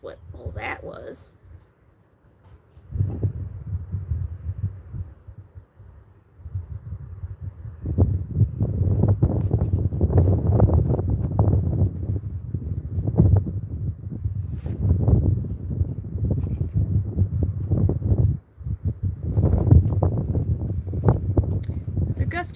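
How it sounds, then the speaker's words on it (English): Outdoor wind gusts buffet the microphone as a low, rumbling roar that swells and holds for long stretches, dropping out briefly between gusts, with faint voice sounds now and then. "Another gust of wind coming"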